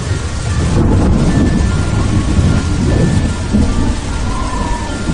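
Thunderstorm with heavy rain used as a horror-story sound effect: loud, continuous downpour with deep rolling thunder rumbling through, dense and close, with no voices.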